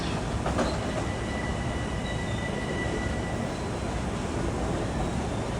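Long Island Rail Road train at busy Jamaica station during the evening rush, a steady loud rumble of rolling rail cars with faint high wheel squeal lines running through, no voices.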